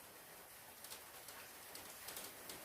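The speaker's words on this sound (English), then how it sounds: "Really heavy rain just started, you might hear it in the background." Heavy rain pours down steadily outdoors, a faint, broad hiss running through the whole stretch with a few brief brighter patters; no one speaks.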